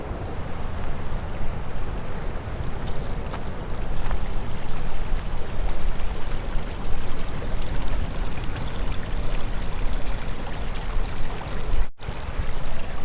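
Creek water rushing and burbling steadily in the open along the West Coast backpacking route, a broad continuous flow that stays loud and close throughout with no voices over it.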